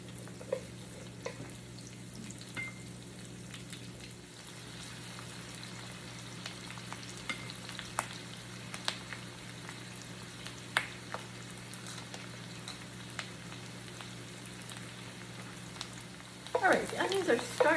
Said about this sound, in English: Now we're going to add our onions to the hot skillet with the bacon grease.